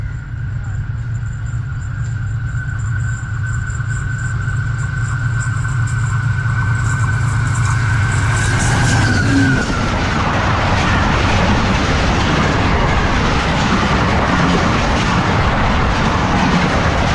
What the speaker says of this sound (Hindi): 15 अप कराची एक्सप्रेस 2 घंटे 20 मिनट लेट रनिंग के साथ पास कर रही है जी इकबाल नगर